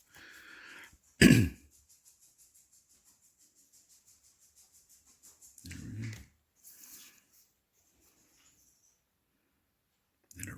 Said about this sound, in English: I'm just trying to clear my throat.